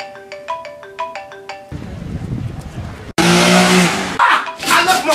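A mobile phone ringtone plays a short bright repeating melody of chiming tones, clear and close, before cutting to car engine roar and tire squeal sounds.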